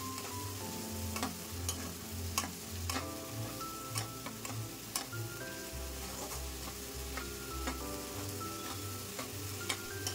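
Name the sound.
sautéing spice paste in oil for raw banana curry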